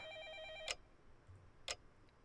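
A telephone rings somewhere else in a house in the game Fate/stay night Remastered, two short trilling bursts about a second apart, faint and distant, over a soft musical tone that fades after the first ring.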